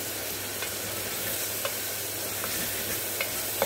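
Tomatoes fry in a pan with browned onions for dal palak, a constant hissing sizzle broken by a few light spoon taps while stirring.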